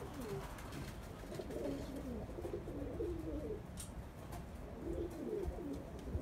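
Pigeons coo inside a loft, soft low rolling coos repeating in short bursts over a faint background hum, close but quiet, with an occasional brief sharper sound.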